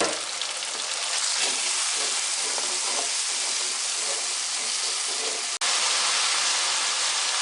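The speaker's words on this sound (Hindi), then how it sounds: "मसाला काफ़ी हद तक भून चुका है" Masala with crushed red chilli and salt fries in a pot for aloo pulao, giving a steady loud sizzle and hiss that runs without break, apart from one brief drop near the end.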